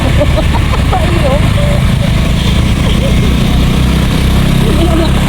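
A motorcycle engine strains to climb a hill on a road trip to a limestone cave campsite, running loud and close as a steady labouring drone throughout, with voices talking over it.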